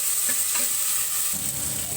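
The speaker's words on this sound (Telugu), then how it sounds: "వేసుకొని దీనికి మసాలా బాగా పట్టేలాగా తిప్పేసుకోవాలి." Mutton coated in masala hisses loudly in a pan for a spicy chukka, a dense steady sizzle with a few soft stirring scrapes near the start.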